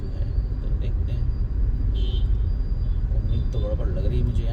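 Road traffic in Whitefield, Bangalore, heard as a constant low rumble of cars and buses with occasional horn-like tones and brake hiss, close and steady beneath a person talking.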